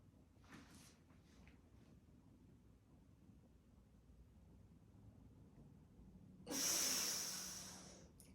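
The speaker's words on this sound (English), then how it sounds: "out, in, out, pausing, hypopressive breath." Hypopressive breathing during a yoga practice: soft, faint breaths in and out, then a long, louder hissing exhale rushing out near the end.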